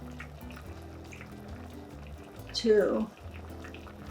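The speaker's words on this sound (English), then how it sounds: "so we have to put the lemon juice" Lemon juice poured by the tablespoon into a pot of Armenian dolma (stuffed vegetables): a brief, close splashing trickle lasting about half a second, surrounded by someone talking.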